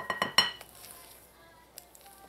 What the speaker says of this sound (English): I'm going to add the meringue in a little at a time, and I'm using my whisk to fold this in.